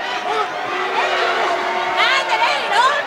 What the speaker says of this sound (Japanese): 本来はカンドリへのブーイングが渦巻いております。